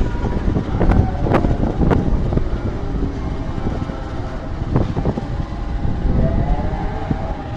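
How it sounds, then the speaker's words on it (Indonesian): Pasundan economy train hauled by locomotive CC 20335 running along the track, a loud continuous rumble and rattle of wagons with scattered sharp clanks, heard close up from on board. "ini lokomotif dinas kita CC 20335 milik Medion"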